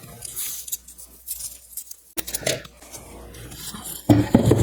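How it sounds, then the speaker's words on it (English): Scissors snip through a piece of ribbon for a Christmas craft, a few short close cuts with light handling rustle between them and a louder burst of clatter near the end. "So I'm gonna cut a piece here."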